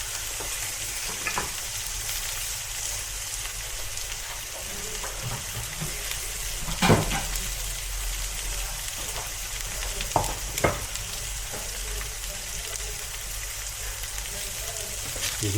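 Eggs for a spicy Spanish egg dish fry in a pan with a loud, steady crackling sizzle, close up, and a couple of brief utensil knocks rise above the hiss.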